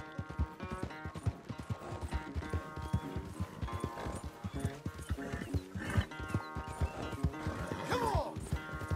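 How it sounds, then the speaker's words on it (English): A horse on a ranch, with steady clip-clop hoofbeats throughout, heard close and mixed into a dense, busy sound bed with a possible whinny near the end. "Where's that big mean horse?"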